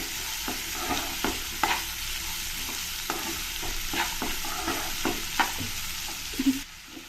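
A spoon scraping and stirring chopped vegetables through a sizzling tempering in a pan, for an upma of broken rice and field beans: repeated scraping strokes over a soft, continuous sizzle, close by and with no talking.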